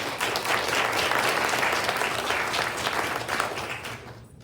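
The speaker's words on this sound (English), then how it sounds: "I'd like to just give them all another good round of applause." Sustained round of applause from an audience at a 2023 scholarship awards ceremony, steady, dense clapping throughout that tapers off in the final half second.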